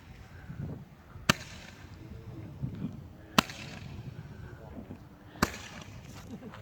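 Fireworks set off for Canada Day crack sharply three times at regular intervals, each loud bang standing out against a steady outdoor background with occasional voices.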